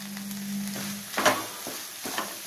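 Okra (ladies finger) palya frying in a pan over a medium flame with lemon juice added, giving a steady close sizzle broken by a few scraping stirs.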